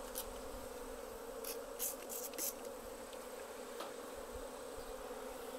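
Japanese honeybees buzz steadily around a Western honeybee hive box outdoors, a constant soft drone with a few louder passes as individual bees fly close to the microphone.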